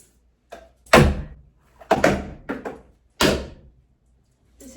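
A door is bumped into several times, giving four or five dull, fairly loud thuds spaced irregularly with brief rattling decay and quiet gaps between.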